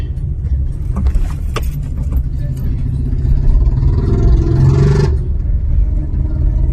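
Cars rumble through a busy market street in the Jalandhar cantonment with constant engine drone, a few sharp clinks and knocks, and a louder vehicle passing close before the noise drops back.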